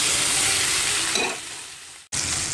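Meat hits browned onions in a hot pan, giving a loud, close sizzle that gradually softens as the pan settles, then resumes after a brief cut.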